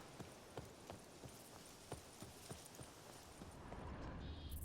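Horse hooves clop at a steady walking pace while riding in the open-world video game Witcher 3, a series of distinct hoof strikes over a soft background ambience, with no speech.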